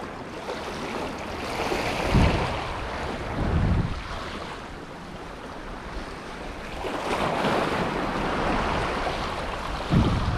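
Sea waves surging and breaking along the edge of a rocky shore at a fishing spot, several swells rising and washing back over a steady ocean wash, moderately close with no talking.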